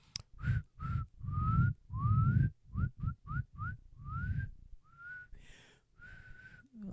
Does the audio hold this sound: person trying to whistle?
yes